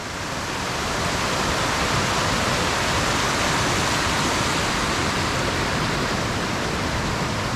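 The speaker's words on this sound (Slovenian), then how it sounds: "poslušati tole reko." A river rushes in a steady, dense wash near an eco village roadside stop in Bosnia, loud and continuous with no voices.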